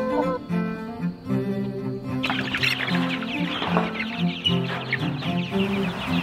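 Chickens picked up from the post office for a 14-acre homestead cluck and murmur close by in a continuous chorus of overlapping calls, with rustling and brief louder squawks joining partway through.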